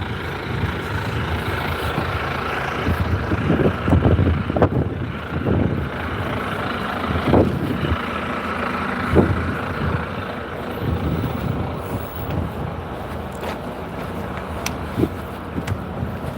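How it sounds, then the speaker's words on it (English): A town bus rumbles past on a street near Cliff Promenade and Kirkfield, its low engine rising to a few heavy peaks as it nears, then easing away amid steady background traffic noise, with no talking. "One of our buses."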